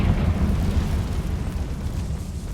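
A Confringo fire spell bursts in Hogwarts Legacy, a loud, close explosive whoosh that rumbles and fades across a couple of seconds.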